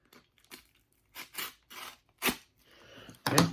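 Scissors or a utility knife cutting open a mail package in a series of short separate snips and tearing bursts, close and fairly quiet, with brief pauses between them.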